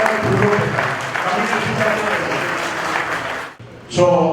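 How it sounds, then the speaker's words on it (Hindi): Audience applause at a first death anniversary function and bhandara in Haridwar, a dense steady clapping that runs for several seconds, breaks off briefly, then swells back loudly near the end, with voices mixed in. "आपका अभिनंदन आपने तालियों से करना है।"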